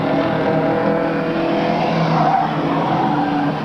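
Race cars at an RGS race in 1998 speed across the finish line, a steady loud engine roar with tire noise holding throughout.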